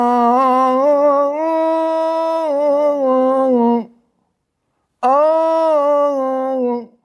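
A solo voice sings a melody in maqam Bayati, two long, wavering, ornamented phrases with a short pause between them, close and clear.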